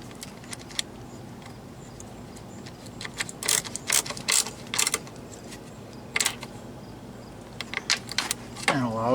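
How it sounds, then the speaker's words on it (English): A wrench tightens a screw on a transducer mount in a blind hole on a Sea-Doo watercraft, giving bursts of sharp metallic ratcheting clicks in irregular clusters, close and fairly loud. "tighten up the screw. Both of those are good and snug."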